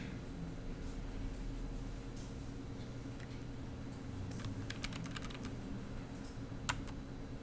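Keys on a computer keyboard are pressed, including the hanja key, with scattered soft clicks at first and then a quick burst of taps, all quiet and close over a low steady hum.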